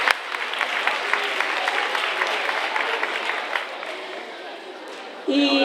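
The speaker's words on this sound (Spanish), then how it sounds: "Vamos a darle un aplauso." Audience applause at a school Halloween party, dense steady clapping from a crowd indoors that lasts several seconds before fading, with a voice starting at the end.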